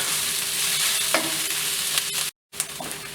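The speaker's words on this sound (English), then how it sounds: "We're gonna add the turmeric powder so that it also gets cooked. And I'm gonna mix it and cook it" Onions and turmeric powder cooking in a pan, a steady close sizzle with occasional spoon scrapes as they are stirred, briefly cutting out before resuming.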